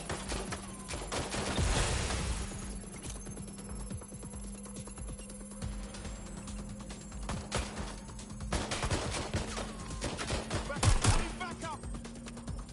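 Gunfire in the Watch Dogs Legion video game: scattered bursts of sharp shots and rapid volleys over a steady low hum, loudest around two and eleven seconds, with brief talk mixed in.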